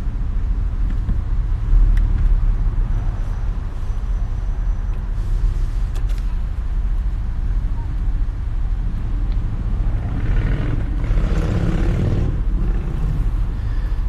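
Steady road traffic rumbles past with a low continuous drone. A louder vehicle swells through near the end, with no talk over the traffic.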